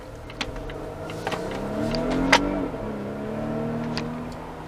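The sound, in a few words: 2020 Volvo S90 T6 AWD sedan accelerating hard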